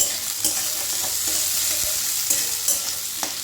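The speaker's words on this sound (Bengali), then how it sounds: "সেটা আলুর সাথে এবার ভেজে নিয়েছি" Sliced onion and potato frying in a pan with a soft continuous sizzle and a few scraping stirs and light knocks.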